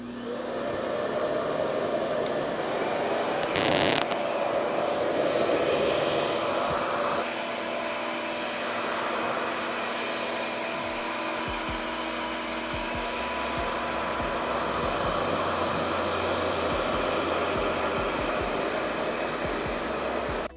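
Revair reverse hair dryer running loud and steady for about twenty seconds, a whining high-pitched motor and rushing airflow like a vacuum, with a brief burst partway through.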